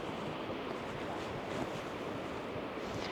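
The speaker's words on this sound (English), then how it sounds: "do you hear the wind?" Wind rushes steadily across a waterfall overlook on a hiking trail, a broad, continuous roar buffeting the microphone with no pauses.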